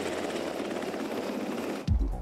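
A Black Hawk helicopter in flight gives a steady, dense rotor drone with a fast chopping pulse, then a sudden low thump and rumble near the end.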